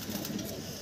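Madrasi pigeons belonging to a keeper in Bulandshahr coo softly, a few low, muffled coos under a hissy background.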